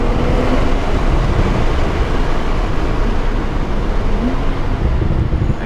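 Steady, loud broadband roar of a Porsche 911 Turbo accelerating hard, engine and turbo whoosh blending into a continuous rush with no speech over it.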